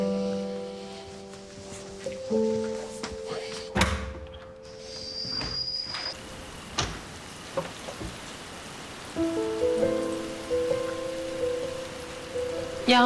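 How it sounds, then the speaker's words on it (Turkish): Rain falls steadily onto surfaces outside, a soft continuous patter running through the whole scene, mixed with a door sliding and a few clunks and knocks at moderate level, with no talking. "Yağmur başladı tekrar."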